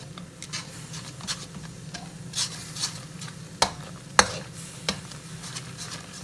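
Coarse red curry paste stir-fried in a pan, a soft steady sizzle broken by scattered scraping clicks of the spatula, several sharper knocks standing out near the end.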